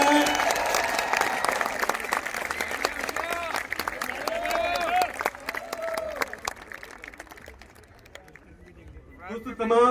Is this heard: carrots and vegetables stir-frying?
no